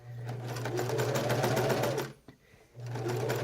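Domestic sewing machine stitching free-motion quilting in a paisley pattern, a steady close, loud motor whir with rapid needle hum that stops briefly, then resumes.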